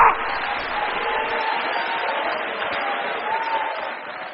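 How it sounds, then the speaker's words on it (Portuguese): A church congregation applauds and cheers in a steady, moderately loud wash of clapping and voices that fills the room evenly throughout. "para Jeová você precisa abrir a bocona e dar glória, aplaudir, espernear, fazer festa."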